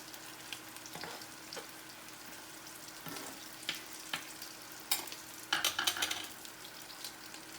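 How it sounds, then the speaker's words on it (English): Potatoes fry in a pan with a soft, constant sizzle, broken by scattered scrapes and a louder burst of clattering as a small spatula turns them; no voices are heard. "I've got a little spatula for flipping my little potatoes here."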